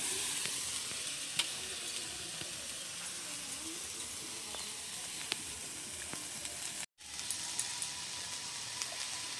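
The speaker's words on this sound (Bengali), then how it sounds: "কড়াইতে কুড়ানো নারকেলগুলো দিয়ে দিচ্ছি।" Freshly grated coconut frying in a wok for a patishapta filling gives a steady, soft, even sizzle with faint occasional ticks, broken by one short dropout.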